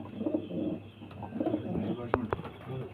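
Several pigeons coo in steady, overlapping rounds close by, a soft continuous murmur broken by a couple of sharp clicks or taps near the end.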